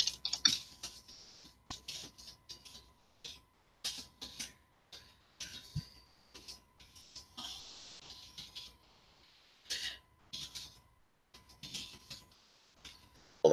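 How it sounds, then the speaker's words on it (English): Computer keyboard typing in short bursts of quick, light clicks, close and fairly quiet, with brief pauses between runs and a faint steady tone in the background. "I'm typing something for a member."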